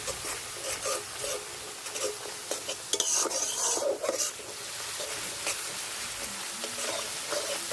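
Dry coriander, chili and turmeric powders stirred and fried in oil in a pan for a Bangladeshi-style egg curry, heard as continuous close scraping and sizzling with clinking spoon strokes and no voices.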